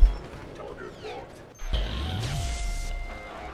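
A video game explosion in Deus Ex: The Missing Link, a sudden loud burst that turns into a sustained crackling, mechanical roar, following a quieter, faint stretch of ambient game sound.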